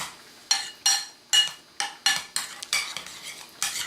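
Salsa is mixed on the flat blade of a Hovey's pepper knife in a quick series of about nine short, close scraping and clinking strokes, with no voices.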